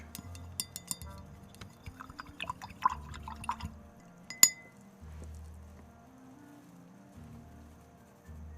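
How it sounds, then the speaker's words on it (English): A paint brush is rinsed in a glass of water, giving scattered light clinks of the brush against the glass and small watery swishes, faint and intermittent against a low background hum. "So I gotta clean that brush."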